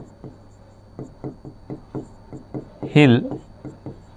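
Chalk or marker strokes on a board tap out in a quick, regular rhythm, about a dozen short scratches close by, while someone speaks briefly partway through.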